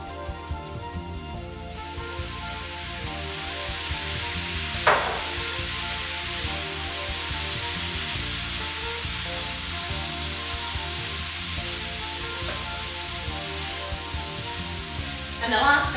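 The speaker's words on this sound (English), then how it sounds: "just for flavour, I'm going to put in just a dash of sesame oil. And some soy sauce." Fried rice in a 28cm Chef Series II pan sizzles steadily after a dash of sesame oil and soy sauce goes in, a loud continuous hiss with a few sharp clinks of a utensil against the pan.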